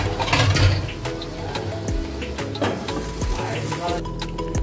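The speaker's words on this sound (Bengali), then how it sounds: "এটা ভালো করে ঢেকে দিতে হবে, তেলটা ছিটকাবে" Oil sizzles and spatters steadily in a pan of paneer curry masala, a dense continuous crackle that stays close and fairly loud throughout, with scraping and clatter mixed in.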